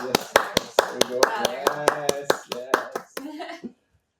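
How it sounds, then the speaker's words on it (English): A few people clap in a small podcast studio, sharp close hand claps in an uneven rhythm for several seconds while voices murmur over them, then stopping abruptly. "Can you get a round of applause for yourself?"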